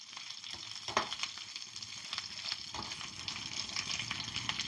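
Lentils frying in hot oil in a tempering for a Telugu-style bhindi fry, a steady crackling sizzle with occasional stirring scrapes, close and moderately loud, no talking.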